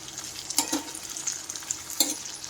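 A spoon stirs ivy gourd (tindora) curry in a pan, with a soft background sizzle broken by a few distinct scraping strokes, close and moderately loud, and no one talking.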